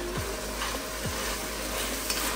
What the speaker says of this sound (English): I'm gonna add the garlic